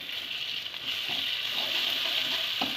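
Ground ginger, garlic, cumin and coriander-leaf pastes fry in oil, giving a steady, fairly loud, close sizzling hiss with a few soft stirring knocks.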